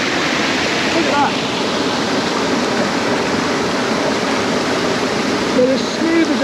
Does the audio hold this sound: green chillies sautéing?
no